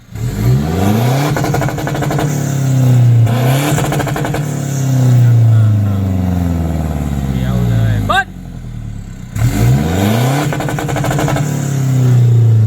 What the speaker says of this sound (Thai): รีแมปได้แล้ว ฟังเสียงเบิ้ลตัด